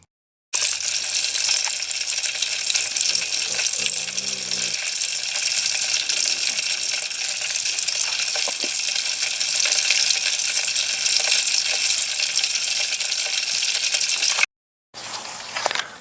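Catfish fillets coated in Kinder's seafood blend seasoning fry at a camp cookout, a loud, steady hiss and crackle of hot oil running continuously for about fourteen seconds, then a brief pause before the sizzle resumes.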